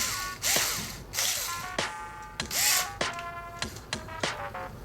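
A socket tool ratchets in quick, close clicking bursts as it tightens the blade screw on a hair clipper, each burst a sharp series of pawl clicks.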